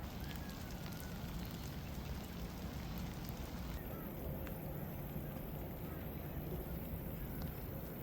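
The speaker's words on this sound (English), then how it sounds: "It rains again now that I'm here." Rain falls during a rainy live-bait fishing trip, a faint, steady hiss that runs through the whole moment without a break. Voices may sound quietly underneath.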